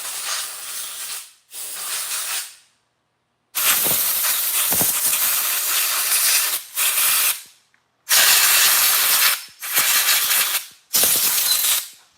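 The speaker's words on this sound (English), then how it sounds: "blow this air filter housing out" Compressed air blasts out a chainsaw's air filter housing in a series of loud, close hissing bursts of varying length, separated by short silences, with no talk.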